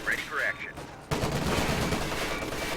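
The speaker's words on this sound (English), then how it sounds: "Still, it's taking small arms fire from MG34." Small arms fire from a German MG34 machine gun during a Company of Heroes 2 battle, a sudden dense burst of loud gunfire that keeps going steadily after a short stretch of quieter battle noise.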